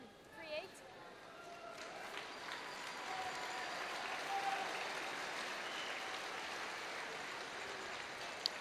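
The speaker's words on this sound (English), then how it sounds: "Always a nice round of applause" Applause from the crowd at a women's world curling championship playoff in an arena, a broad, steady wash of clapping that swells midway and continues, with commentators talking over it.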